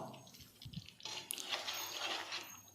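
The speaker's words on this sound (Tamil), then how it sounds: "கிரேவிக்கு தேவையான அளவு தண்ணியும் சேர்த்துக்கிறோம்." Water splashes and trickles into a pan of pepper chicken gravy, a short uneven pour with soft dripping, faint and close.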